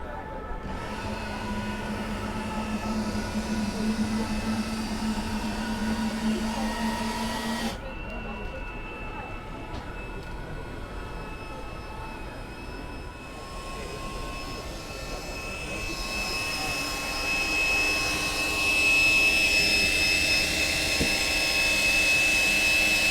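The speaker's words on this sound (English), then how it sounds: "what we have here is a pair of Yanmar 320 horsepower diesel engines" A pair of Yanmar 320-horsepower diesel boat engines starting up, a steady mechanical roar shifting in pitch and getting louder over time, with a continuous whine and no voices.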